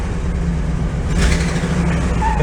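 A rough-running bucket truck engine idles steadily with a low, uneven rumble, close by and continuous, with no voices.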